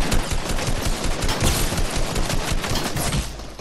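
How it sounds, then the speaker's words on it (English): Dense, continuous automatic gunfire from a Fortnite battle on PS4, loud and close, a rapid volley of shots running almost without pause before easing slightly at the end. "Stop shooting at me,"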